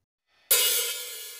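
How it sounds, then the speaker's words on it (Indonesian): An open hi-hat struck once on a real drum kit, a sharp bright hit after brief quiet, then a sizzling wash that sustains and slowly fades, heard alone. "Kemudian ketuk open hi-hat."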